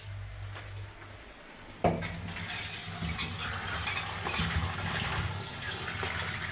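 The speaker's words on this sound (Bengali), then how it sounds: "বেগুন ধুয়ে নিল" Freshly cut eggplant rinsed in water, with a steady rush of running water and splashing that jumps louder partway through, mixed with faint clinks of a pot or bowl nearby.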